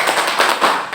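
A classroom group does a clapping chant during a teacher-training practice session, with a few quick bursts of hand claps blending together, close and fairly loud.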